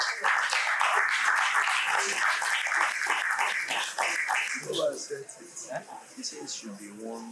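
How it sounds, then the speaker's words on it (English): Applause from a film financing conference audience fills the first five seconds as a dense wash of clapping. It fades as a voice begins speaking over the thinning claps. "Please give me a round of applause."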